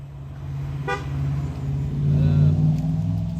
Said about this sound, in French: Le petit coup de klaxon qui va bien.